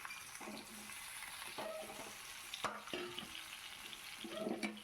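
Okra frying in a pan with parboiled potatoes gives a quiet, steady sizzle, broken by occasional utensil clinks and scraping stirs close by.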